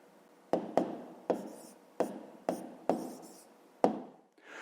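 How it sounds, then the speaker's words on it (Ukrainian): A pen writing an answer by hand on paper, heard as a series of short scratchy strokes and taps in quick bursts, close and clear with no talk. "Пишемо відповідь."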